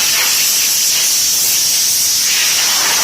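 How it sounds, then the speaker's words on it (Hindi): 3M spray polish hisses steadily from an aerosol onto a Royal Enfield motorcycle, one continuous close spray lasting a few seconds. "अब इसमें पॉलिश जो है वो स्प्रे से कर रहे हैं। ये स्प्रे पॉलिश है, 3M की पॉलिश है"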